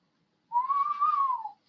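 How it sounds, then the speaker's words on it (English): A thin, steady whistle of wind through windows rises briefly, holding one high tone for about a second before dying away, with silence around it. "My windows are whistling, baby."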